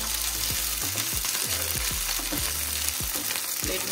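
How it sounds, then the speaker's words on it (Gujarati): Capsicum frying in leftover paneer oil gives a steady, loud sizzle, with repeated stirring scrapes and clacks at a regular pace throughout and no talking. "જે તેલમાં આપણે પનીરને ફ્રાય કર્યું હતું એ તેલમાં આપણે કેપ્સિકમ પણ ફ્રાય કરી લઈશું."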